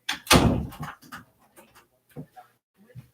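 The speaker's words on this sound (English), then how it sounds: "I'm going to close the door and lock it." A door is shut with one loud thud, followed by a few small clicks and rattles as it is locked in a quiet room.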